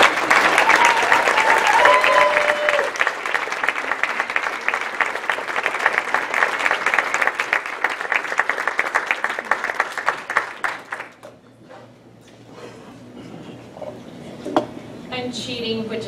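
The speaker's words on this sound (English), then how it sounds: "So we want to give a round of applause." An audience at a theatre awards ceremony gives a loud, dense round of applause lasting about ten seconds, then it fades out and a voice speaks alone.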